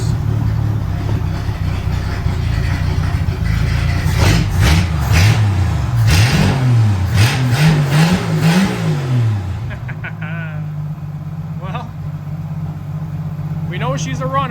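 Eagle demolition derby car engine running and revving, with rising and falling rev sweeps in the middle before settling to a steady idle, loud and close under talking.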